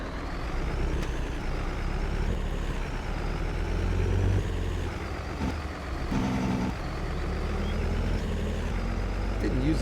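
A truck drives in Farming Simulator, its engine a steady low drone that runs the whole time with slight shifts in pitch, with a few brief tonal blips over it.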